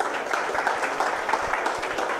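Audience applause at a startup pitch session, a moderate, somewhat thin patter of clapping heard at a distance for a couple of seconds with no talking over it.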